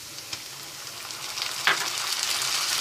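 Onions, green chillies and chopped tomatoes fry in a pan, a soft continuous sizzle with a few stirring scrapes and clinks, quiet and close with no talk.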